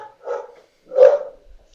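A dog barks twice at home during an evening wine tasting, two short separate woofs about half a second apart, fairly loud and close, with near silence between them and no talk.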